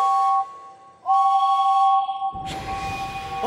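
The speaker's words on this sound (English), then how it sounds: "James blew his whistle" A cartoon steam engine whistle blows twice, long shrill blasts close by, followed by a burst of hissing steam.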